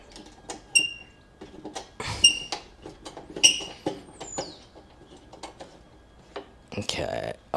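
Ratchet spinning stainless bolts into a chrome sissy bar on a Suzuki VL250 bobber, with quick bursts of clicking and light metallic rattles in short runs, close by, with faint background noise between.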